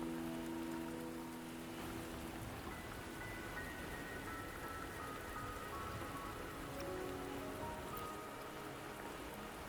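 Steady rain pours across the world of the video game Wuthering Waves, an even, dense hiss of drops hitting surfaces with no talk over it, while faint tonal game music lingers softly in the background.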